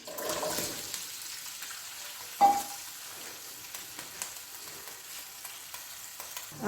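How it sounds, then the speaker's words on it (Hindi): Onions frying in Dalda ghee in a pan, a steady soft sizzle with occasional stirring scrapes and one sharper clatter partway through, close and moderately quiet. "अब इसको मैं थोड़ी देर के लिए फ्राई करूँगी।"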